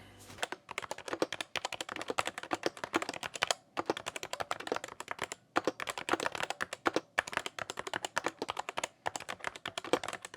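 Rapid typing on an Epomaker Skyloong GK75 Lite mechanical keyboard, bursts of crisp clicky keystrokes with brief pauses between, close and fairly quiet, no voices.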